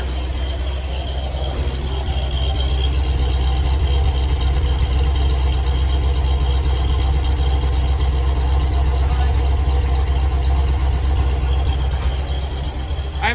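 A 1970 Ford LTD engine idles cold with a steady, low, continuous rumble recorded close up.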